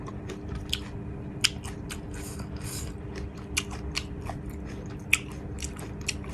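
Crunchy candied jujube is bitten and chewed close to the microphone, giving a run of sharp, crisp cracks and brittle crunches at irregular intervals over a faint steady background hum.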